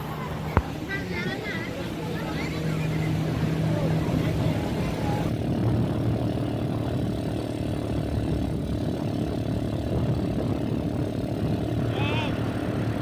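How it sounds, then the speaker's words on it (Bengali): An ATV engine drones steadily during a ride along Laboni beach toward Sugandha beach, a loud continuous motor hum with wind and faint voices over it. "এখন আমরা এটিভি রাইড করবো।"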